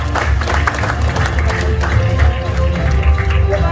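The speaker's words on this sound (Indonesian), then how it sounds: "Tepuk tangan Bapak Ibu." Applause from an audience at a company presentation in Indonesia, loud continuous clapping mixed with crowd noise throughout and no clear speech.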